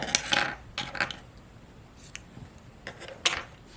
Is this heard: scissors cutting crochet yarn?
yes